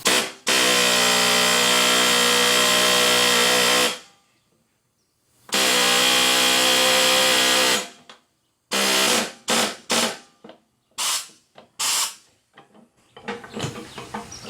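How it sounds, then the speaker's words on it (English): An air hammer works a stuck part on a lawnmower, long loud bursts of rapid hammering separated by pauses, then shorter stuttering blasts and clatter near the end. "Just going to use this air hammer and the pry bar."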